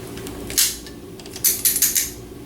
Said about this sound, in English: a guillotine style cigar cutter works the best